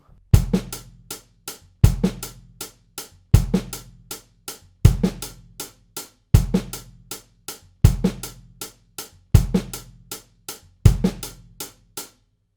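A drum set groove in steady eighth notes, with a bass drum hit on each downbeat beneath crisp cymbal strokes, the pattern repeating evenly and played loud and close with no talking.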